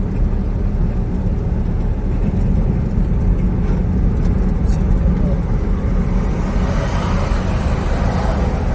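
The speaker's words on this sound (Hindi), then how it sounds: "सपाटे भर रही गाड़ियाँ" Cars rush past along a lit road at night, a steady loud roar of passing traffic with engine rumble and tyre hiss, swelling brighter toward the end as vehicles draw near.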